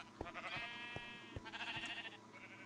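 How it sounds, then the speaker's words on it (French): Sheep bleat in the Terracube video game, a wavering tonal call near the start and a second one later, over a busy backdrop of short knocks and game ambience. "Mouton, donc les moutons sont ici désormais avec le coton."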